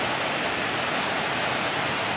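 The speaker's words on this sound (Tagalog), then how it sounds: "Kasi ang lakas ng ulan." Heavy rain pours steadily outside a room, a dense, loud, unbroken hiss with no talk over it.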